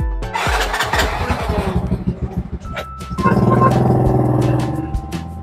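A motorcycle engine starts and revs while riding along a canal construction project, a steady mid-pitched drone with a shifting tone partway through, close to the rider, with a hum beneath and a voice briefly heard.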